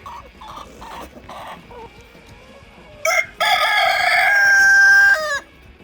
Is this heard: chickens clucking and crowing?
yes